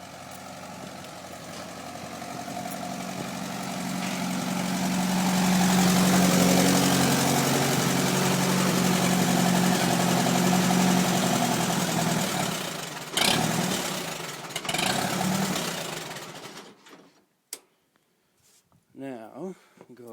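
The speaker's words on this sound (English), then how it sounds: "we're going to go over here and shut the tractor down" A farm tractor engine idles near a barn in the wind, a steady low rumble that swells and then cuts off, followed by clunks and footsteps, with someone talking over it.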